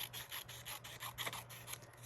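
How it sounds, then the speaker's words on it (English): Paper is cut along the margin of a planner page, giving a series of quiet, rhythmic rasping strokes, soft and close with a low steady hum beneath. "So I'm going to cut off the margin."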